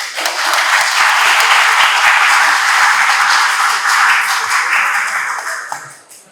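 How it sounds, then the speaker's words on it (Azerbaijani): Students at a youth-themed meeting held at Azerbaijan Technical University burst into sustained, dense, close applause, loud and even for several seconds before tapering off at the end, with almost no talking. "Öncə gəlin, sizin gəncliyinizi alqışlayaq."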